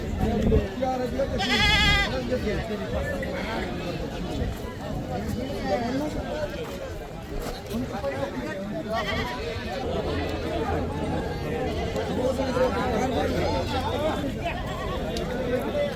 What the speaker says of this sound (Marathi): ते बघा मित्रांनो हे दोन शेळ्या आहेत